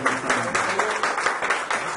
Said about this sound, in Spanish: Denle un aplauso bien fuerte, hermano, al Señor.